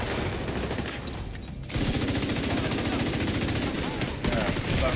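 An LMG machine gun fires in The Division 2, with rapid, sustained loud bursts of automatic gunfire, a brief pause near the middle, then continuous firing again under occasional game noise.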